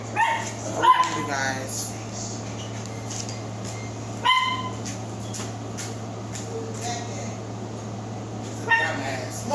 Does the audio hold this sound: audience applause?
no